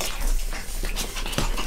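Puppies from a litter whimper and yip during play and biting, producing short, close, repeated whines and scuffling sounds, with no talking.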